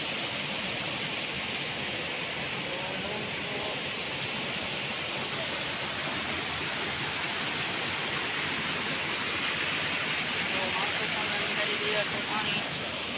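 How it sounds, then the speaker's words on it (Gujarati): Floodwater of the Malan river in spate during heavy rain, a dense, steady roar of rushing water and rainfall that stays loud and unbroken throughout, with no distinct separate events. "અત્યારે વરસાદ વરસવાનું ચાલુ છે"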